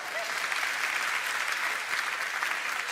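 Audience at a live Chuckle Brothers stage show applauding steadily, a dense wash of clapping that holds at an even level throughout with no voices standing out.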